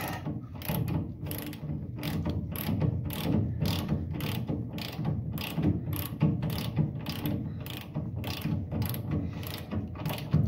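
A ratchet tightens a nylock nut onto a car ball joint during installation, giving steady, rapid clicking strokes throughout at close range, loud and alone.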